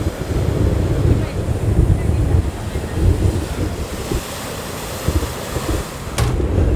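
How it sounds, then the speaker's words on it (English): Heavy ocean waves surge beneath Huntington Beach pier, a dense, continuous wash of surf mixed with gusting wind buffeting the microphone, rising and falling in rough swells throughout. "It is weird how it goes from like semi-calm to really like heavy waves."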